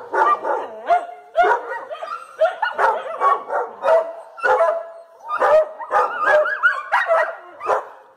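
Dogs bark, yip and whimper nonstop in a crowded, run-down municipal kennel in Pádua, Brazil, where a dog is dying of distemper among healthy ones; many overlapping barks, loud and close, with no talk.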